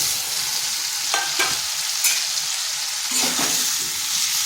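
Pre-fried pointed gourd is stirred in a sizzling pan for a vegetarian dish; a continuous hiss of frying runs underneath, with a few spatula scrapes and knocks standing out.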